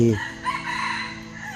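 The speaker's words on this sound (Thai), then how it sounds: "อ่า เสียงไก่ขันนะครับ กลางวันนะครับ" A rooster crows nearby in the daytime, its call trailing off into a drawn-out, wavering note against a quiet background.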